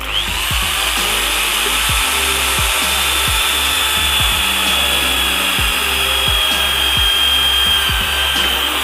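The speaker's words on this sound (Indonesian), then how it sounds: "Jadi kita akan bor dulu." An electric drill boring into metal whines steadily and loudly throughout, a continuous high motor drone with regular low knocking pulses underneath.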